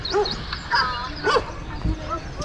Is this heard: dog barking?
yes